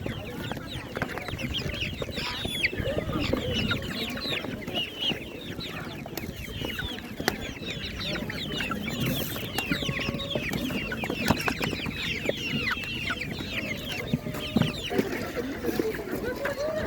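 Chickens at a busy spring animal market where young laying hens are sold, clucking steadily throughout amid dense crowd chatter and background voices.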